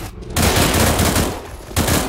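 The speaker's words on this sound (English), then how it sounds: "They're shooting me." Rapid automatic gunfire in Counter-Strike: Global Offensive, loud and close, firing in two sustained bursts with a short gap between them, and no talking.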